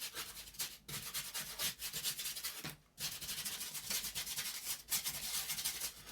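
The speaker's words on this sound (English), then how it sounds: "get your brush and then just start rubbing it in whatever direction you feel fit to do" A brush scrubbing paint onto a textured stone wall in a miniature room box, a steady close rasping rub in continuous random strokes with one brief pause, no talking.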